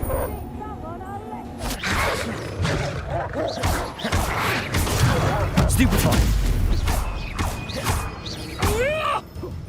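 Spell effects in the Hogwarts Legacy video game, a shielding Protego and a fiery Incendio cast during a fight: sharp cracks, whooshes and booming bursts in an irregular run, loud and close amid combat noise and a voice.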